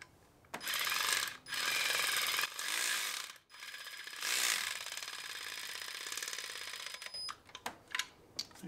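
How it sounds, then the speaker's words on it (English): Ratchet wrench tightening a 10mm bolt on a charge air cooler of a 3.0 Duramax in a 2024 ZR2 truck: close, crisp rapid clicking in several bursts separated by brief pauses, ending with a few single clicks. "All right, so we're gonna go ahead and tighten this up."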